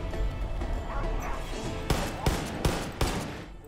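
A dog barks in the Far Cry 5 video game, several sharp barks in quick succession amid a loud clutter of gunfire and crashes.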